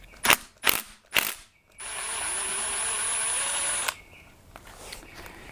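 Several quick ratchet bursts click, then a short steady power-tool whir follows, as a 12mm bolt comes off a Honda H22 transmission, with quieter handling noises after.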